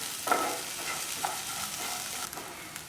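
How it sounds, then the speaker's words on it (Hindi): Onions tipped into finely chopped sweet potato in a frying pan for a Spanish omelette: a steady close sizzle with a few soft stirring scrapes and light knocks, no voices. "अब मैं इसमें ऑनियंस ऐड कर दूंगी"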